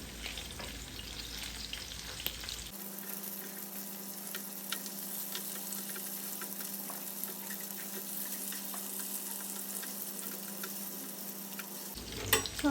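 Pieces of chicken shallow-frying in a pan of oil for chilli chicken give off a steady, even sizzle that runs on without a break, close and moderately loud, with no voices.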